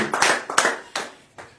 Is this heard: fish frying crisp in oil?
no